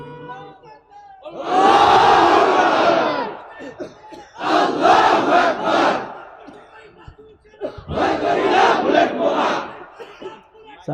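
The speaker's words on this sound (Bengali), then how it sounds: "কি তাকবীর দেন?" A large crowd at a religious sermon roars Allahu Akbar in three loud, sustained shouted bursts with brief pauses between them, close and full.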